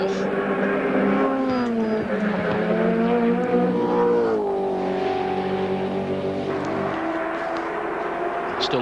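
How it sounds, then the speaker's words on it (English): Touring race car engines roar past at the 1990 Bathurst race, including a Ford Sierra, with a steady, loud engine drone that rises and falls in pitch as the cars go by. A commentator talks over the noise. "Look for the Red Sierra. And here it comes past Jeff Fall."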